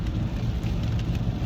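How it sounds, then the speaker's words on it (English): Heavy rain falls outside in a dense, even roar of drops with a low rumbling undertone, steady and loud throughout the short stretch with no voices. "And the rain has let up a little bit"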